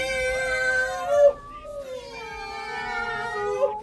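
Several people voice imitation cat meows and yowls during a family animal yoga fitness session, drawn-out wavering calls that overlap, with a brief pause in the middle before the mewing resumes.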